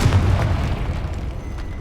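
Confringo spell cast in Hogwarts Legacy, a deep booming blast with rumbling low end that decays over a second or so, loud and close, no voices.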